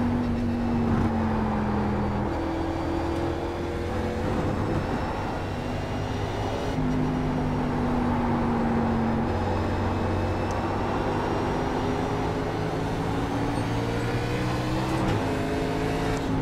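A NASCAR stock car at Watkins Glen in iRacing, a steady loud engine drone whose pitch drops under braking and steps through downshifts, then climbs again as it accelerates, with the gear changes clearly marked.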